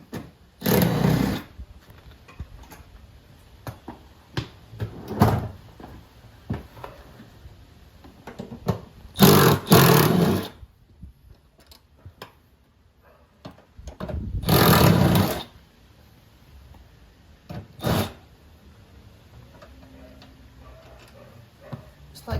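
Small power tool spinning out seat bolts in a 1000 hp Dodge Hellcat, several loud whirring bursts of a second or so each separated by pauses, close by, with faint handling clicks between them.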